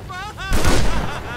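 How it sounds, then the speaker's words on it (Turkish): Video game rocket explosion and gunfire, a sudden loud boom bursting over continuous game noise, with someone talking in Turkish just before. "Oha roket nereden geldi lan?"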